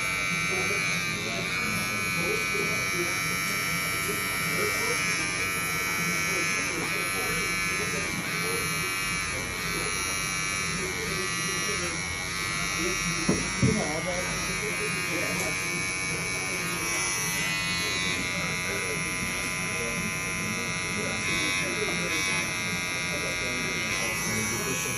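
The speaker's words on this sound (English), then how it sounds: "I did a full video with me cutting with the Bevel trimmers" A Bevel Pro electric trimmer buzzes steadily and close up while cutting hair, a constant high whine that runs the whole time with a voice talking alongside it.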